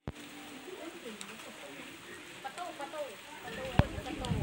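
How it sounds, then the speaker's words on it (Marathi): First monsoon rain in Konkan falling on surfaces outdoors, a steady soft patter with faint birds, brief voice sounds and a sharp tap near the end. "आणि पाऊस पण पडतोय वातावरण पण काळं झालं"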